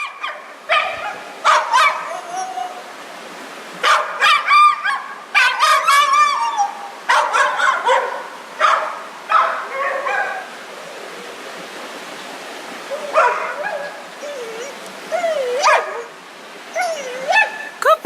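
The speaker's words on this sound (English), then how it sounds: "you can hear Burley decided this was not possible, and he was completely terrified" Terrified dog on a boulder field while backpacking in the Wind River Range, giving repeated high yips, whines and anxious barks in irregular bursts, close and loud over the steady rush of nearby water.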